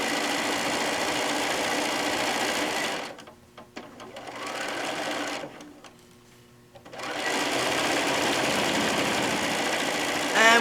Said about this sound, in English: we're sewing towards the fold